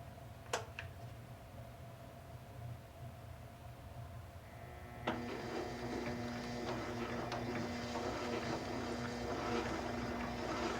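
A lathe spins a Harley magneto at about 100 RPM during a spark test, a steady mechanical whir and hum that starts after an early click and grows fuller and louder from midway, running continuously to the end with no talk.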